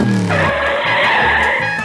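A car pulling away hard with a brief low engine rumble, then a loud, sustained tire squeal as it skids off, continuous for about a second and a half with no voices.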